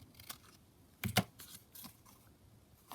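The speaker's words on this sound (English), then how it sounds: "Oops, that's an awful bit of cutting." Scissors snip through paper while ephemera are made at a craft table, a couple of quick close crisp cuts over a quiet background with light paper rustle.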